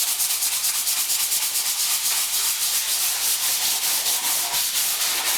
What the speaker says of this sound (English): Give them a good sanding